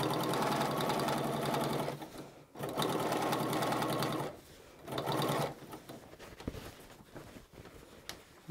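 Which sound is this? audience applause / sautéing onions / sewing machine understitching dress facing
sewing machine understitching dress facing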